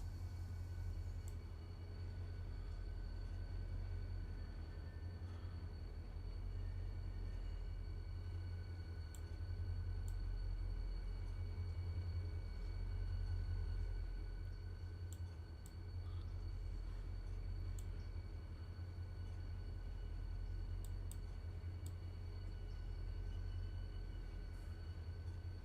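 A locomotive in the video game Railroader backs slowly into a siding, giving a steady, low diesel rumble that drones on evenly with a few faint clicks and ticks.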